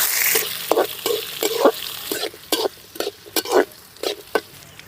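Mustard seeds, dal and onion frying in a pan for an amaranth stem stir-fry, with a steady oily sizzle broken by repeated rhythmic scraping strokes of a stirring spoon, close and fairly loud.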